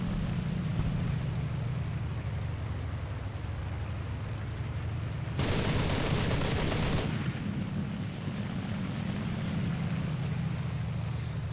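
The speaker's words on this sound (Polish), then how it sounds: "Posłuchajcie, jak gra mój silnik" A steady, loud aircraft engine roar drones throughout a flight combat video game dogfight, swelling briefly to a harsher, brighter burst midway before settling back to the same constant hum, with no talking.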